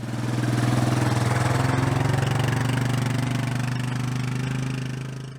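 A four-wheeler engine idles close by with a steady, throbbing low rumble that holds for several seconds and then fades slightly.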